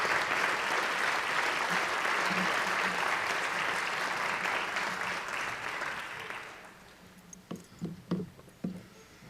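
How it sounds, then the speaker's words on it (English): Families and staff at a school district meeting applaud students for their artwork, a full round of clapping that fades after about six seconds, followed by a few faint bumps and knocks in the room. "I believe another round of applause for our students."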